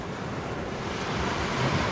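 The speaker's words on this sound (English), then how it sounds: "As long as the waves keep just turning the shells and replenishing and not pulling it back out to the Gulf" Gulf of Mexico waves wash steadily over piles of shells on Navarre Beach, a continuous broadband rush of surf close by, roughened by wind noise on the microphone.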